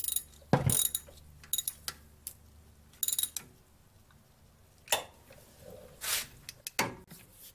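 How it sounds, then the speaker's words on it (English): A ratchet wrench clicks in short bursts as a rear brake caliper banjo bolt is torqued down on a Jeep Wrangler, with scattered metallic ticks and pauses between strokes, close and fairly quiet. "On our next step, we're going to torque it down."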